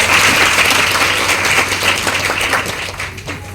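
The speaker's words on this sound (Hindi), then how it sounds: "एक बार इनके लिए जोरदार तालियां हो जाए" An audience at a business seminar applauds loudly and continuously, a thick, steady roar of clapping that tapers off gradually toward the end.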